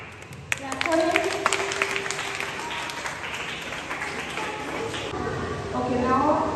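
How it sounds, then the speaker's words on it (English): A primary class of young students claps for a classmate after a short speech, a loose burst of applause with scattered voices and occasional louder claps around it. "Clap for him."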